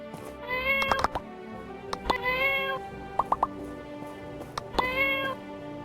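Meows from a cat in the video game My Time at Portia: three separate, fairly loud calls spaced through the clip, with short plopping clicks between them.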